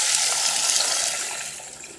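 Water pours steadily into a pot on a Sterno folding stove, a brief continuous splashing gush that tapers off slightly toward the end.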